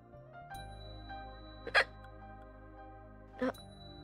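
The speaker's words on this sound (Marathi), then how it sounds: "पाणी प्यायली तरी उचकी थांबत नाहीये." Two short, sharp hiccups about two seconds apart, standing out against a quiet room with a faint steady hum, no talking.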